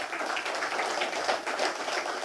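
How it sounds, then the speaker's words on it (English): Town hall audience in a conference room applauding together, a steady dense wash of many hands clapping at moderate distance, with no talk over it. "I want you to give yourselves a round of applause."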